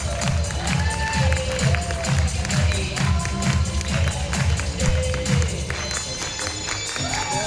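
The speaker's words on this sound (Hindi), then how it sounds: "एक बार जोरदार ताली होनी चाहिए" Seminar audience applauding in a hall, a dense steady wash of clapping with some cheering and a voice over a loudspeaker, loud and continuous.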